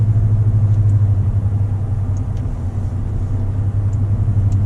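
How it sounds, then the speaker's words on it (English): A 2019 Toyota Tundra TRD Pro pickup drives along with a steady, loud low engine drone and road rumble, continuous and close, with no talking over it. "I love the engine sound. It's so good and so smooth to drive this car."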